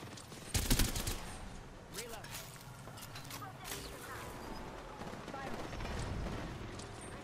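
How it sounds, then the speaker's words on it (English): Bursts of gunfire from a video game, a loud volley near the start followed by scattered quieter shots and rumbling, with voices talking over it. "They're shooting at him."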